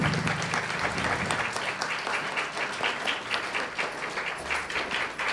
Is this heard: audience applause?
yes